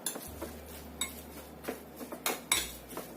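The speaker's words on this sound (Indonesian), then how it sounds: "Aduk sampai rata" A metal utensil clinks and scrapes against a pot or bowl in irregular bursts while stirring chicken with sesame oil and seasoning, close by, with a low steady hum underneath.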